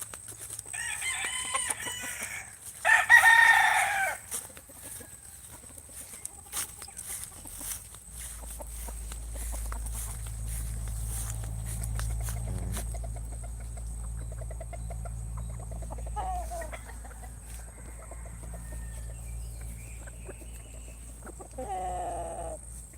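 A rooster lets out a loud, close crow early on, followed by scattered clucking and other fowl calls over a low background rumble.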